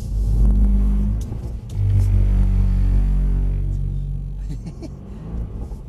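A Mercedes-AMG C63 engine revs hard on throttle during driver training at Mercedes-Benz World, a deep, loud rumble that surges twice and then eases off toward a lower, steadier drone.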